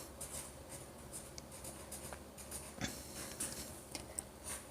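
Faint pen-on-paper scratching from handwritten notes in a Japanese class, with short strokes in an uneven rhythm and a few small ticks. The writing is close but quiet, and no one speaks.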